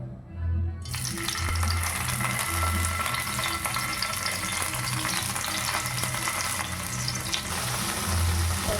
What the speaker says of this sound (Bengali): একটু হালকা করে ভেজে নেবো লাল করে